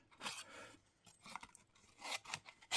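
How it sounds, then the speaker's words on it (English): Scissors slowly close through card while trimming around a printed shape, producing a few soft, close crunching snips separated by short pauses, quiet and alone. "the scissors are just slowly closing as the card moves"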